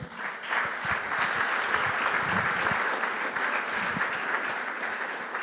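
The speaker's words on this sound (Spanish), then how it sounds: "Fuerte aplauso al Señor." A church congregation breaks into sustained, loud applause at a service, dense steady clapping filling the room for several seconds with faint voices mixed in.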